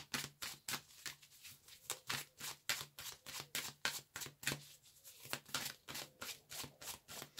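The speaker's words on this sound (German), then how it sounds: "Ich fange mal an zu mischen" Fairy oracle cards being shuffled by hand, a steady run of soft riffling slaps repeating about twice a second, close and clear with no talk over them.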